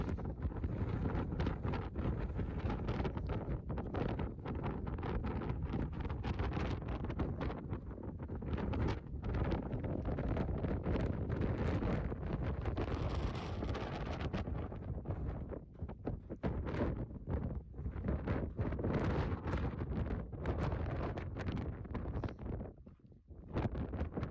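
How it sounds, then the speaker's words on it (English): Strong wind blowing over a mountain ridge in Northern California on the Pacific Crest Trail, buffeting the microphone in continuous loud roaring gusts that rise and fall for about twenty-four seconds with no voices. "Just came over the ridge here. It's pretty windy."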